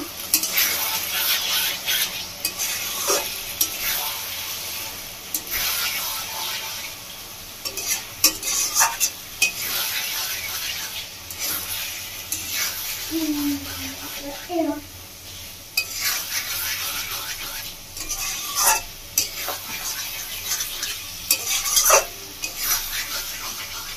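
Masala for a tangra fish curry stirs and fries steadily in a pan for a long stretch, a continuous sizzle broken by repeated scrapes and clinks of a spoon against the metal, with no talking.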